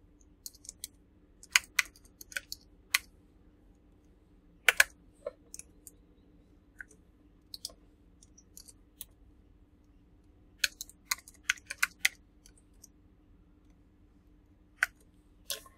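Password being typed on a computer keyboard: scattered bursts of quick, crisp key clicks with short pauses between, close and fairly quiet over a low steady room hum, with no talking.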